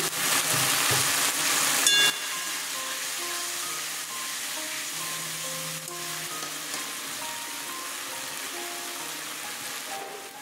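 Onion and tomato fry in a pan for a potato and katla fish curry, a loud hissing sizzle that bursts at first, then settles into a steady crackle for the rest, with faint background tones and no speech.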